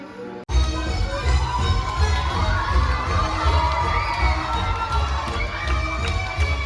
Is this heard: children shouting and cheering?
yes